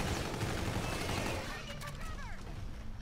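VPR submachine gun firing in Call of Duty: Infinite Warfare, a dense loud stream of automatic shots for about a second and a half, then softer crackling and whizzing effects, with a voice talking over it.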